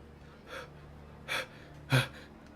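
Female character in the video game GFL2 panting and hyperventilating, three separate breathy gasps growing louder and closer one after another, with no speech.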